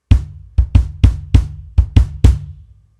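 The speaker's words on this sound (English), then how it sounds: "we have what we call the bass drum," Bass drum of a drum kit kicked eight times in a loose pattern, deep thumping hits with short decays, close and alone with no talk.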